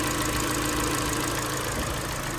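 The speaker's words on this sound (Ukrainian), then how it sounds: "На двигун дуже рівненько працює взагалі." A Hyundai Sonata YF LPI engine idles nearby after a cylinder head repair, an even, rhythmic chug, steady and unbroken over a couple of seconds.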